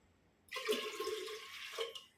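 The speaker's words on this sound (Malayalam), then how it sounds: "ഒരു ആറ് ഗ്ലാസ് വെള്ളമാണ് നമ്മൾ ഒഴിച്ചു കൊടുക്കുന്നത്" About six glasses of water are poured into an earthen pongala pot during the Attukal Pongala offering, producing a short, soft, close gush of splashing that lasts around a second and a half.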